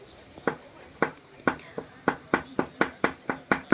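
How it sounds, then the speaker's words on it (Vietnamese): A knife mincing peeled dried shallots on a chopping board, a steady run of about a dozen sharp, close chops that grow quicker toward the end, with no voices. "thái mỏng rồi băm nhỏ ra."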